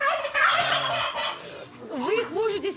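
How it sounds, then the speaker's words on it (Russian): Turkeys gobbling on a farm alongside chickens and other poultry, a loud burst of warbling gobbles up close followed by more gobble calls after a short pause, with no talk over them. "у вас здесь индюки находятся? Да, индюки."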